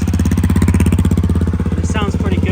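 A Honda CRF 250 L motorcycle's single-cylinder engine idles up close, loud with a fast, even pulsing chug, and someone speaks briefly over it near the end.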